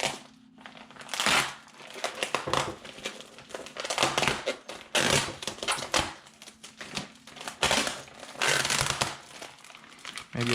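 Plastic packaging for a Verus rear diffuser for a 2015-on Subaru WRX/STI is torn open and crinkled by hand, loud close crackling and rustling in irregular bursts with short pauses.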